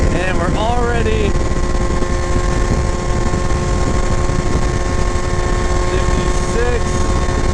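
A motorbike fitted with a Polini Evolution 70cc kit engine roars at speed in a loud, sustained, high-revving drone mixed with wind rush, with brief bits of voice near the start and end.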